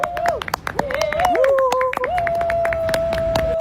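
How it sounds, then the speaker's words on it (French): A small group at a summer holiday camp gives scattered, uneven claps, close by and fairly loud, mixed with voices and a sustained sung or whistled tone. "ils vont jusqu'à applaudir leur propre gênance"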